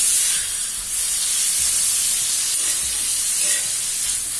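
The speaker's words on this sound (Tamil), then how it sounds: "நம்ம மேரினேட் பண்ணி வச்சிருக்க சிக்கனை இதுல சேர்த்துக்கலாங்க. சிக்கனை நல்லா வதக்கிக்கலாங்க." Marinated chicken sautés on a tawa with a loud, close, continuous hiss and sizzle, fairly even throughout, with faint stirring touches.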